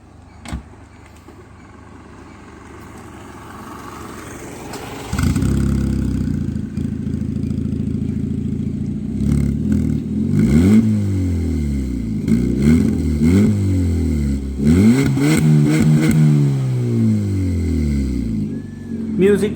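A modified Ford Figo hatchback engine starts up and revs hard, with rising and falling throttle sweeps and a loud, rough exhaust, heard from close by with a voice speaking over it.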